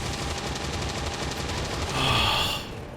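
A soldier firing in XCOM 2, a rapid rattling burst of automatic gunfire that swells into a louder blast near the end, close and harsh with a breathy, hissing tail, no talk over it.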